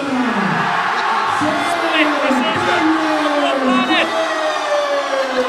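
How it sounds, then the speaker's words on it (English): A boxing crowd roars for the winner just after a split-decision verdict: a sustained wall of cheering with whoops and high shouts rising over it, loud and steady throughout. "the biggest cheer of the night goes up for the winner, Sean Daniel Jones"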